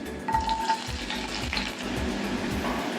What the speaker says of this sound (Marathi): तेल गरम झालेलं आहे तर त्याच्यात राई, जिरे, बारीक कापून लसूण घेतलाय